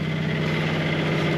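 A sailboat's inboard engine running at 2,000 RPM, heard from the V-berth as a loud, steady low hum and drone with a faint even pulse and no voices.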